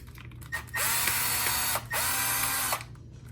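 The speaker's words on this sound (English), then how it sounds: "this is as simple as just unscrewing this little guy here" Mechanical ratcheting from a hand tool unscrewing a part while installing a Power Wheels ride-on toy brake kit, two sustained bursts of close, loud clicking separated by a short pause.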